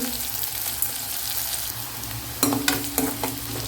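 Onions sautéing in a pan for a mushroom gravy, a steady close sizzle with sharper scraping stir strokes toward the end.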